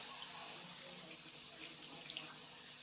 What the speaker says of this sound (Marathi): आता ह्यात आपल्याला पाहिजे तेवढं पाणी टाकून घ्यायचंय.